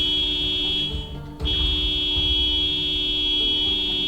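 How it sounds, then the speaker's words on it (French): A continuous electronic car horn in a video game blares steadily, dropping out briefly near the start then resuming loud and unbroken. "on klaxonne pour attirer ceux qui sont là aussi."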